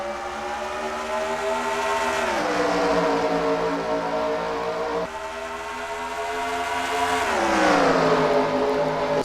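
Race cars roar around the Dover oval, a dense engine drone that holds steady and then sweeps downward in pitch twice as packs of cars pass. Nobody speaks over the loud, continuous engine noise.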